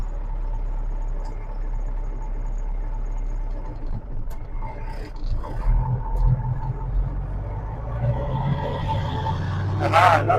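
A 1974 Kenworth W900 truck's Cummins 903 V8 diesel rumbles steadily at idle, deep and close. Near the end it swells louder as the engine picks up.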